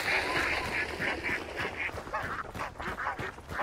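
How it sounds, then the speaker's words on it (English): Ducks quack over and over in a Hunt: Showdown game scene, set off by a player passing them. The calls come as a loud, near cluster with a steady rhythm of honking bursts that carries through the whole stretch. "You ran by the ducks, didn't you?"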